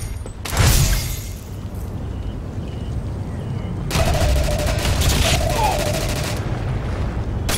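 Shotgun gunfire in the online shooter Ghost Recon Phantoms, a loud blast near the start, then a long sustained stretch of dense firing and rattling from about the middle onward, loud and close.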